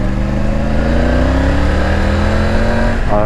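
A 2020 Triumph Tiger 900 GT Pro motorcycle, restricted to 35 kW for A2 licences, being ridden, with a steady loud engine drone that rises in pitch as it accelerates, under rushing wind noise.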